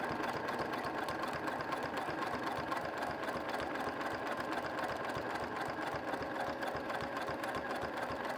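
A sewing machine stitches steadily along the edge of a fabric postcard, its rapid needle chatter running evenly and close throughout with no talking.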